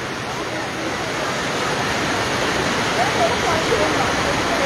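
Torrential rain pours down on a street in Khulna, a dense, even hiss of falling water that holds steady and grows slightly louder, with no distinct voices.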